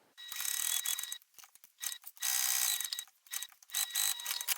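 Sewing machine stitching fabric along a drawn rectangle, running in several quick bursts of high, whirring mechanical chatter separated by short pauses.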